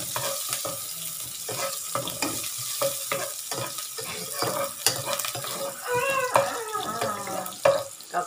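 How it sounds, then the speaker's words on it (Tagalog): Onions frying in a pan, with intermittent stirring clatter and a light sizzle throughout, plus clinks of the utensil against the pan, fairly close and with no talk. "igigisa na po natin ang sibuyas"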